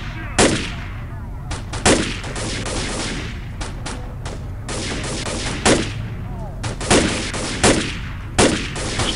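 Guns fire in the video game Stalker in repeated sharp bursts and single cracks, spread unevenly across the stretch over a low background rumble, with faint voices in between.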